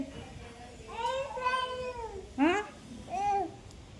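A cat meows near a small child, giving several drawn-out, rising and falling cries across a few seconds, with one sharper call in the middle. Soft background sounds and a young voice are faintly present.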